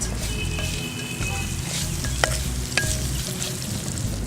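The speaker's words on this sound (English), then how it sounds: "So I'm just going to caramelize the onions." Onions and green chili caramelize in a hot pan with a loud, dense, continuous sizzle, broken by a couple of sharp spoon scrapes and taps against the pan.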